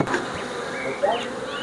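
Honey bees buzz steadily around mini nucleus hive boxes in a close, dense drone, with individual insects whining past.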